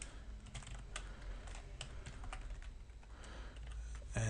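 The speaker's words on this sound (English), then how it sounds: "So let's type the URL in of that." Keys clatter on a computer keyboard as a URL is typed, a quick irregular run of soft, close taps over faint room hiss.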